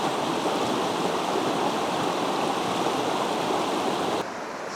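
A river runs steadily into a deep, sandy-bottomed natural pool along the Waiotauru Track, a constant broadband wash of flowing water that drops slightly in level near the end, with no voices.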